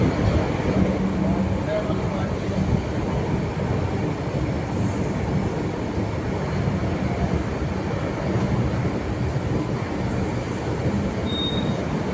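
The NJP-GHY Intercity Express at New Jalpaiguri railway station: a loud, continuous rail rumble with faint wheel squeal, and voices blending into the busy platform noise.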